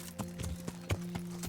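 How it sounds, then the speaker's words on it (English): Horse hooves clip-clop at a steady walking pace in the medieval game Kingdom Come: Deliverance, several soft evenly spaced thuds over a faint continuous hum. "Hop on the old horsey. Make our way back into town."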